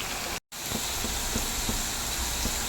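Raw mango pieces fry in hot oil for a Kerala-style pickle, giving a steady, close sizzling hiss with soft bubbling pops. A brief dropout to silence comes near the start, then the sizzle resumes.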